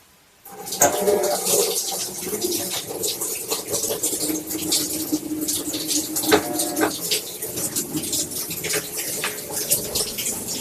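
A Whirlpool washing machine fills with water as a loud, gushing inflow starts abruptly after a short silence and continues in a steady turbulent rush. The machine is heard close up, and no one speaks.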